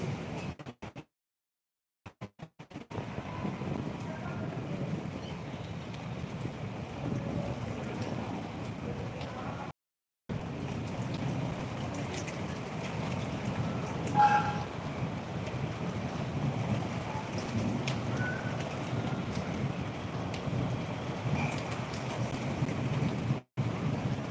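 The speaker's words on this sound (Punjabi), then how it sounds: "ਤੇਜ਼ ਬਾਰਿਸ਼ ਹੈ ਮੀਂਹ ਪੈ ਰਿਹਾ" Heavy rain falls in a steady, dense wash of noise that continues for the whole stretch, broken by a few brief dropouts.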